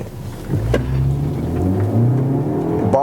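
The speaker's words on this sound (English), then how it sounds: "I'm just gonna punch it, and let's see how fast this car accelerates." A 2021 BMW X1 pulls away hard from a standstill, engine note rising and holding through the gears, loud and close from inside the cabin, with a short click and whir near the end.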